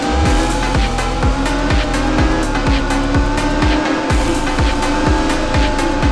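A race car engine in the Car Simulator 2 video game, on a race course, drones loud and close with a steady rhythmic gear-whine pattern that repeats in quick cycles, without a break.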